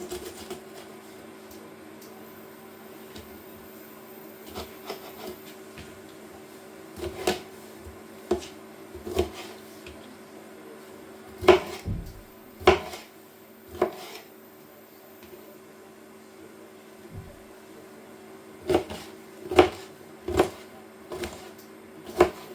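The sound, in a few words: slicing pepper and mushrooms on a chopping board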